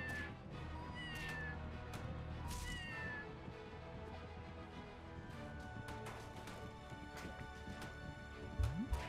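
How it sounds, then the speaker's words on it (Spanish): Many cats in the video game Scribblenauts Unmasked meow over and over, their overlapping game-sound cries spread across a busy, continuous backdrop of effects. "¿Por qué tantos gatos?"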